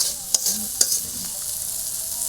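Malabar spinach greens with salt and turmeric are stirred and fried in a pan, giving a steady hiss of sizzling with a couple of sharp scraping clinks of the spatula early on.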